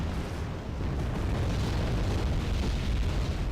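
Explosions and artillery shooting in the Wargame Airland Battle video game form a dense, continuous low rumble of overlapping booms that stays loud and steady throughout.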